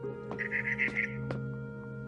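Barn swallow chirping in the video game Edith Finch, a few short, bright twittering calls over a steady tonal background hum, fairly quiet and close.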